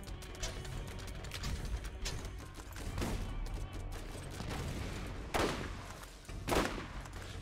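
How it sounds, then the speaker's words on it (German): Gunfire in the video game Borderlands, shots aimed at the player: scattered cracks over a dense, steady bed of combat noise, with two sharper, louder bursts near the end. "Ey, hört mal auf, hier auf mich zu schießen."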